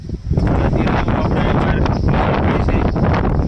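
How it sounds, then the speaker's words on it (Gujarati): Steady wind blowing hard against the microphone in Jasdan, a continuous broadband rush with gusty swells throughout. "અત્યારે જુઓ પવન સારો આવવા માંડ્યો છે"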